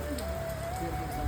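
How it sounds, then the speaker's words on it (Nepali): Steady rain falls throughout, a dense even patter on a surface during house floor plastering, with a faint bird call in the background and no one talking. "पानी परिरहेको छ।"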